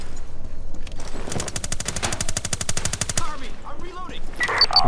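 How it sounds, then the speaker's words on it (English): Machine gun in the online shooter Ironsight firing a rapid, evenly spaced burst of about two seconds, loud and close, with scattered game sounds before and after. "Wow, what gun is this? Sounds cool."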